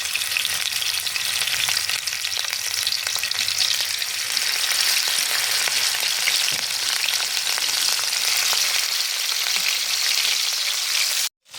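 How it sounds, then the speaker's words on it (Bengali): Steady, loud sizzling of rohu fish pieces frying in hot oil, a continuous crackling hiss close by that cuts off abruptly at the end. "এখন মাছগুলো ভালো করে আমি ভেজে নেব"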